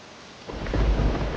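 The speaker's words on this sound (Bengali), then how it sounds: "এই বাইরে তো অনেক বৃষ্টি হচ্ছে।" Heavy rain outside, heard in a cartoon scene: a soft wash of rain abruptly swells into a loud, close, low rumble of thunder that rolls on to the end.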